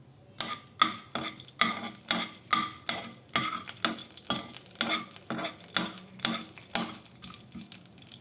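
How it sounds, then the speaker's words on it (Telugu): A spoon of urad dal frying in a spoon of oil over a low flame for beerakaya thokku pachadi: a soft sizzle under a regular series of scraping stirs, about one stroke per half second, close up and with no talk. "గ్యాస్ని లో ఫ్లేమ్లోకి అడ్జస్ట్ చేసేసుకొని 1 స్పూను మినపప్పు వేసుకొని ఫ్రై చేసుకోవాలి"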